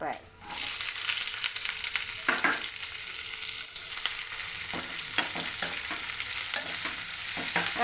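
Chana dal and urad dal frying in hot oil in a pan, a loud steady sizzle with frequent stirring scrapes and light clicks, heard close with no one speaking.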